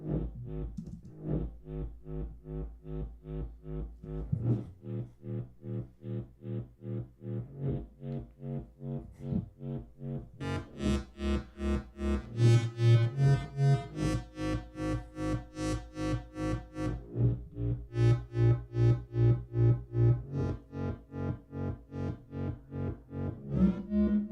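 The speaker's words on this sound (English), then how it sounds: "Can I put it through another distortion?" A synth bass through diode distortion plays a rhythmic, pulsing sequence of gritty repeated notes, harsh and buzzy, with the pattern shifting midway.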